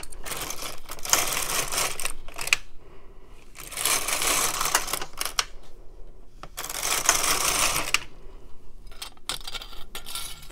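A knitting machine carriage knits rows for a baby blanket with mock crochet trim. Three long, loud runs of rapid mechanical clatter are separated by quiet pauses with small clicks, and nobody speaks.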